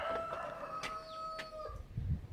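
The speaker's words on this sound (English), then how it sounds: "the rooster got the time wrong, rooster" A rooster crows once, fairly distant, with a long drawn-out call and a few faint clucks or rustles near the end.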